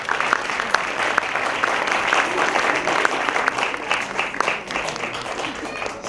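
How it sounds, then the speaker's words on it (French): Audience applause for the Moroccan community and delegation at a Moroccan cinema week gala, a dense, steady wash of many hands clapping in a large hall, loud and sustained throughout. "qu'on applaudit très fort d'ailleurs"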